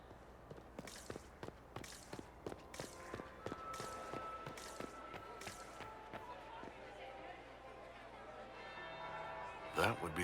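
A bell tolling in Dragon Age: Inquisition, a string of regular resonant strikes that ring on and fade under a low background, with voices talking near the end.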